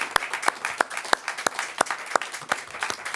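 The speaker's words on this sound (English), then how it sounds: "may I please have a warm round of applause for Hisham and Buhle." An audience at a panel talk claps in a steady rhythm, with sharp, evenly spaced beats about three times a second. The claps are fairly close and have no voices over them.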